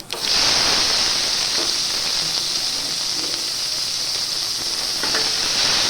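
Chopped onions hitting hot oil with popped mustard seeds and urad dal, sending up a loud, steady, close sizzle and hiss that starts abruptly and holds evenly throughout.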